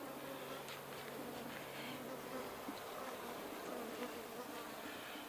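Feral honey bees buzz steadily around their hive, a dense, continuous hum of many insects, fairly close with no voices over it.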